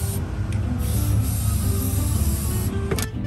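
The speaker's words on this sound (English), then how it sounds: "I'm gonna try out this belt dressing. So you just spray this straight onto the belt" An aerosol can of belt dressing hisses in a steady continuous spray onto a squeaking engine belt, close and fairly loud, with a faint tap near the end.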